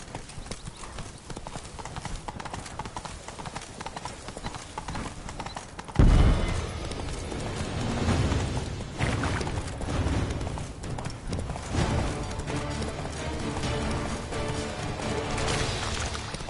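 Horse hooves clip-clop rapidly in a galloping rhythm in a video game, steady and fairly close, with a louder burst of hoofbeats and game ambience partway through.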